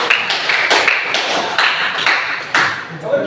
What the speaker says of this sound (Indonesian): Tepuk tangan buat Nino.